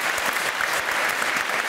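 A studio audience on a Turkish quiz show claps steadily for the team, dense, even applause sustained throughout at close range without any voices standing out.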